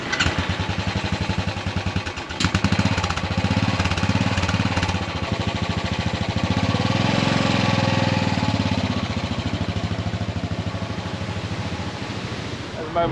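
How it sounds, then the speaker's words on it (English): A Royal Enfield 500 Classic single-cylinder motorcycle thumps steadily while riding in strong wind, a loud close pulsing engine rumble mixed with heavy wind buffeting throughout. "It's a Royal Enfield 500 Classic, and this is going to be my wheels for the next couple of days."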